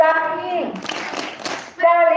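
A group of elementary school children at a Scout camp clap their hands together in a dense burst lasting about a second, with sung or voiced tones before and after.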